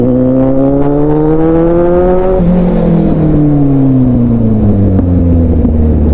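A Kawasaki Z800 motorcycle pulls away, its engine note climbing steadily through the gears, loud and close, with a gear shift audible partway through and no talking.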